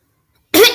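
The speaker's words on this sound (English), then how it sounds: "I have a little cough" After a moment of silence, a person gives a single loud, close cough that trails off briefly.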